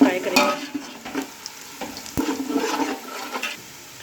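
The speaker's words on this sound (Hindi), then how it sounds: "मैं इसमें ये खड़े मसाले सारे डाल दूँगी। इनको इसमें 2 मिनट फ्राई करेंगे।" Whole spices fry in oil with lightly browned onions for aloo keema pulao, a close sizzle broken by spoon scrapes and clinks as they are stirred, loudest at the start and again midway, with no voices.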